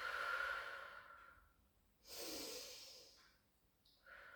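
Slow, deep breaths drawn in and let out during a hip flexor stretch, soft and close, with one fuller exhale in the middle and no talking.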